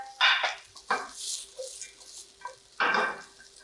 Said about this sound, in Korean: 달달달 볶아주세요. 이때 불이 너무 세버리면 타버리기 때문에 불은 중불에서 살짝 약불로 해서 해주시고요.